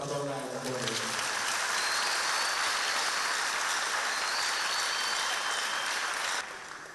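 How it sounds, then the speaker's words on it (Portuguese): A room applauding in a posthumous tribute, strong continuous clapping that swells quickly after a brief voice, holds evenly at full loudness, then drops off at the end. "Eu gostaria que a sala pudesse dar uma salva de palmas bem forte para a dona Aida."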